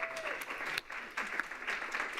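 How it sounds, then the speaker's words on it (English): An audience at a policy conference applauds steadily, a dense wash of clapping that briefly dips before resuming. "Everybody, let's give him one more round of applause."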